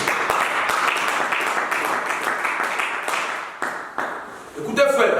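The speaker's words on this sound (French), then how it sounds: "On acclame Jésus, acclame Jésus." A church congregation applauds and cheers Jesus together, a dense and steady wash of clapping with shouts mixed in that holds loud throughout, then briefly thins near the end before a voice rises over it.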